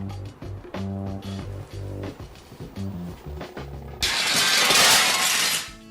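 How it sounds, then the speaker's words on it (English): A glass table shatters when a glass is dropped onto it in a movie scene, a loud sudden crash with a spray of breaking pieces that bursts in after a stretch of music and rings for nearly two seconds. "Nick drops a glass onto Rory's table, causing it to shatter into pieces."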